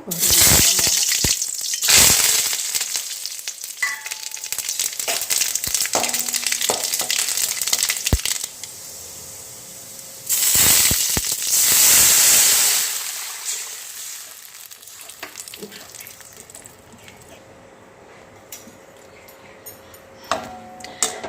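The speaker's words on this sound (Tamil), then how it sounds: "இப்போ வாங்க தாளிக்கலாம்" Fenugreek, mustard seeds, dal and curry leaves sizzle and crackle in hot oil for a tempering, a steady frying hiss with louder bursts and clatter as the spices are added, continuing close by throughout.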